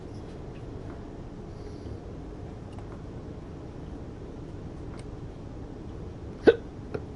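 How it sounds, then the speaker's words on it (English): A man gives a couple of short, sharp hiccups close to the microphone, near the end, over the low rumble of a train simulator's cab ambience. "Hiccups, excuse me."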